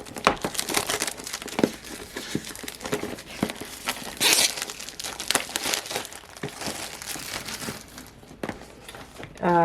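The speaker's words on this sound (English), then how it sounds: "So here we go, unwrapping." Plastic wrapping crinkles and crackles as a 48-pan Mei Liang watercolour set is unwrapped, a steady run of close, irregular rustles with a few sharper tearing bursts, under occasional quiet talk.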